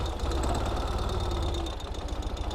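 A modern two-wheel-drive Ural sidecar motorcycle pulls off-road in first gear, its engine a steady, close, loud low rumble with a throbbing pulse that eases slightly near the end.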